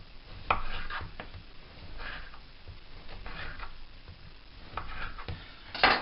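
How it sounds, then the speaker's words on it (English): A knife saws through slices of baguette in a home kitchen, giving soft crunchy strokes and light taps on a board in a quiet, close setting. "I'm just going to cut some slices of baguette."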